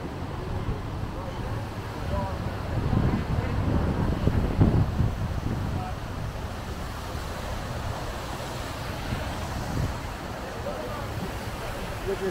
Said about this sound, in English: Really, really windy right now.